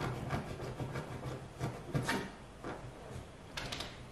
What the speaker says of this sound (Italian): Il rumore che sentite di sottofondo è Margot che scava nel divano